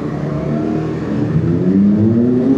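A Triumph motorcycle engine revs up close, a loud steady drone that climbs in pitch as the throttle opens.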